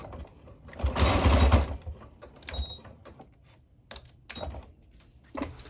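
A sewing machine stitches plastic boning into a garment, starting with a longer steady whirring run and followed by several short stop-start bursts of stitching, close and clear.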